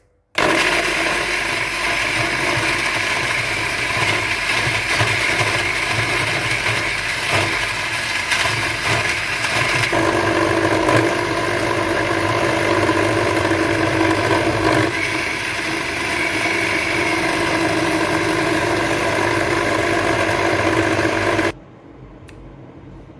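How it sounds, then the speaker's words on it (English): An electric blender grinds bumbu spice paste with water in a loud, steady whir that runs for about twenty seconds before cutting off abruptly, leaving a faint hum. "Then we're going to close the machine and we're going to on it to make the bumbu paste."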